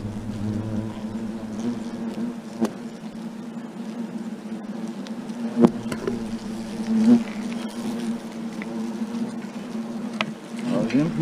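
A swarm of hornets buzzing around their nest in a linden tree, a steady close droning hum with occasional louder passes as individual insects fly near, with no voices.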